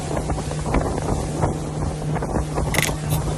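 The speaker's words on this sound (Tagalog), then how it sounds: "ang lakas ng alon" Island-hopping boat at sea off El Nido pounding through strong waves, a loud continuous rush of engine, water and wind buffeting the microphone, with splashing surges and no talking.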